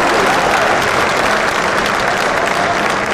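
An audience at a motivational training session claps in a loud, dense and continuous round of applause that holds steady throughout.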